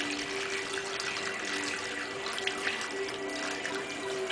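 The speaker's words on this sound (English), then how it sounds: "I'm dipping a little water out of here, out of these buckets, before I can lift them up." Water splashes and trickles steadily close by as it is dipped out of full buckets, a continuous pouring and sloshing sound with no voices.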